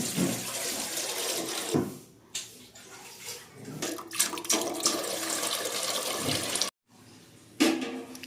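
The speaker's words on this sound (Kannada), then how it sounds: "ಫಸ್ಟು ನೀರು ಹಾಕ್ಕೊಬೇಕು" Water poured from a vessel into a cooking pot on a village stove, a close gushing splash that comes in bursts and breaks off briefly near the end.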